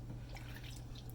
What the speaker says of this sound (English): running it under fresh water